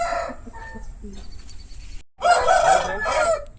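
A thin-faced Aseel rooster, about 13 months old, crows loudly and up close in two strained bursts split by a short gap, with a clucking hen and other fowl nearby.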